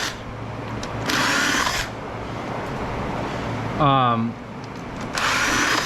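A power drill unscrewing screws from an LED light fixture being scrapped whines in two loud, close bursts, with a brief rising and falling sweep between them over a steady background hum.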